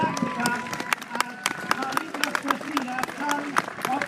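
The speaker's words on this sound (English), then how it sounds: "A big hand of applause please for Galactica." An audience claps for a prize-winning polo pony at the Cartier Queen's Cup award ceremony, a moderate patter of scattered applause under a voice.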